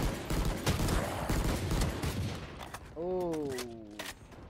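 Rapid gunfire bursts and shotgun blasts in the video game Valorant, dense and loud, with a sliding tonal effect near the end and a player's voice briefly heard.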